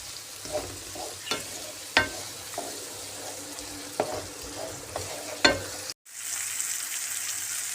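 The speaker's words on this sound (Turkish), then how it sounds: "Domatesleri de ekledim. Kavur kavur kavur kavur." Chopped, peeled tomatoes sautéing in a pan for menemen, a soft bubbling sizzle punctuated by a series of stirring knocks and scrapes, then a brief cut before a louder steady hiss resumes; no speech.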